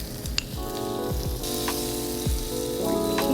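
Key West pink shrimp sautéing in a pan seasoned with coarse salt and pepper, a steady close sizzle with a few brief stirs and light clinks.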